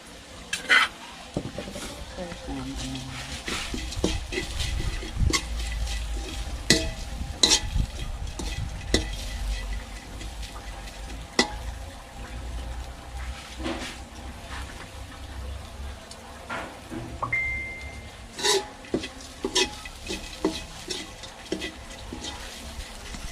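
Eel sizzling and frying in a hot pan while a utensil scrapes and stirs it, with clanks of metal on metal, up close and fairly steady.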